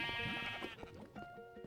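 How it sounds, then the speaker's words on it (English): Sheep in the video game Minecraft bleat in a few short wavering calls, overlapping and close, with faint game sounds behind. "look at all the rainbow sheep"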